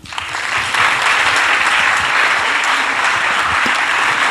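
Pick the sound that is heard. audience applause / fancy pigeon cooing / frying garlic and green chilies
audience applause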